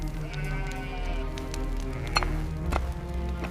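Sheep bleat at a farm with other livestock nearby, sounding as several wavering calls over a low rumble, with a sharp clatter near the end.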